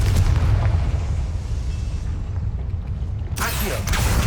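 A Confringo spell blast in Hogwarts Legacy rumbles as a sustained heavy boom with a deep low roar, followed by a sharper burst near the end, loud and close.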